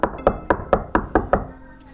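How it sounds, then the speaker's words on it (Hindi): Seven sharp knocks on a door in a steady, quick rhythm, close and distinct, followed by a brief quiet. "तभी दरवाजे पर एक ठक ठक हुई।"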